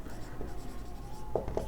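Pen writing on paper during a class 10 maths lesson on triangles, faint scratchy strokes with a couple of brief sharper marks near the end and a voice in the background.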